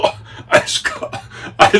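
A few short, harsh coughs close to the microphone, separated by brief pauses, with throat noise between them.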